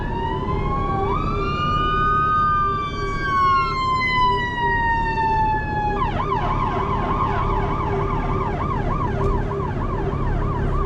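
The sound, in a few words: ambulance siren passing by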